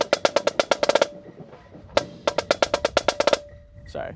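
A marching snare drum plays a bar of rapid, crisp strokes in a triplet feel, with a burst of hits, a single accent after a pause, then another fast run, loud and close.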